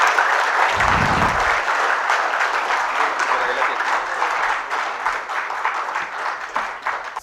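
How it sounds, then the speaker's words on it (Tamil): Dense, loud applause from an audience at a stage event welcoming a speaker, sustained for several seconds with a brief low thump early on and gradually easing toward the end. "MCR ரிக்சன் அவர்களை உங்கள் வளமான கரகோஷத்திற்கிடையே மேடைக்கு அழைக்கிறோம"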